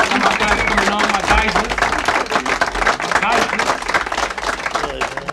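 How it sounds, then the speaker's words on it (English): Audience clapping for guests at a music-label interview show, steady crowd applause running throughout with someone talking loudly over it. "Can I get a hand clap?"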